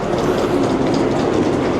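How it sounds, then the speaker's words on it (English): Steady rumble of a train rolling along the tracks through a station in Hamburg, Germany, with a faint clickety-clack, continuous and fairly loud, no voices. "See the trains coming and going."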